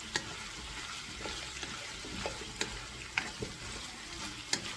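Cooked meatballs frying in a pan for cheesy meatball spaghetti, a soft steady sizzle with occasional small pops and crackles, fairly quiet and without talk.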